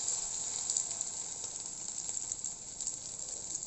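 An egg with coriander leaves frying in a pan gives a soft, steady sizzling hiss, faint and unbroken, with no voices.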